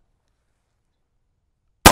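A Bergman Bayard 1910/21 pistol fires a single live round: one sharp, loud bang near the end, after near silence, decaying quickly.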